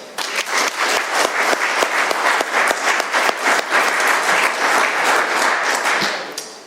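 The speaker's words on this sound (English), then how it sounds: "Let's have another round of applause." An audience at an AA meeting in Doylestown, PA claps steadily in a loud, sustained round of applause that fades slightly at the end, without any speech.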